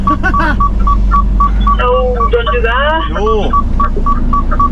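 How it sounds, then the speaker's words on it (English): A truck's reversing alarm beeps steadily as the vehicle turns round in a yard, a regular train of short, even tones repeating under close conversation inside the cab. "Sorry about the beeping, I'll go in a minute."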